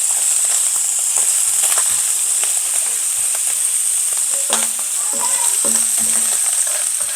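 Burger steak fries in a hot pan, a loud continuous sizzle broken by scattered sharp pops and crackles of spattering fat, heard close with no talking.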